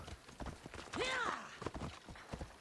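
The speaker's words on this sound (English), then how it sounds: "I can get to a point where I can get my horse out and get over this wall." Hoofbeats of a horse mount in the video game Assassin's Creed Odyssey, a short run of clip-clop steps with a whinny-like call in the middle, heard fairly close.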